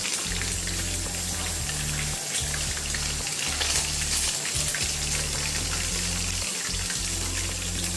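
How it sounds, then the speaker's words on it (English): Chicken pieces deep frying in hot oil, a steady dense sizzle and crackle that runs close and loud for the whole stretch, with no talking. "Take it out of the oil."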